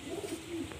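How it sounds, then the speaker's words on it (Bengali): A pigeon with a long beak and black marking at the base of the nose coos softly nearby, a couple of low murmuring calls with no talk. "খুবই সুন্দর পায়রা,"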